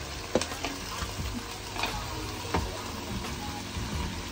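Meat going into a pan of sizzling fried spice paste, with steady frying hiss and a few sharp clinks and scrapes of stirring, close and moderate in volume, no talking.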